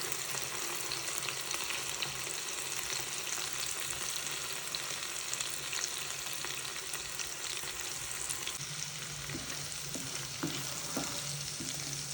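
Masala paste for Afghani egg masala frying in a pan with a dense, steady sizzle, joined near the end by a few soft stirring scrapes and taps, no voices.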